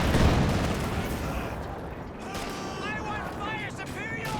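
Artillery barrage in Company of Heroes 2, dense rumbling impacts and mechanical clatter rolling continuously beneath a talking voice for several seconds.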